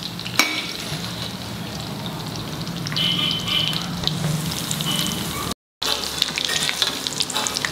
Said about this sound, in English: It has to fry.